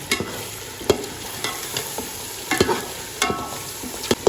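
A spoon stirs chicken curry with pumpkin, turmeric and salt in a pot. Scrapes and clinks land at irregular moments over a low, steady sizzle, close by, with no voices.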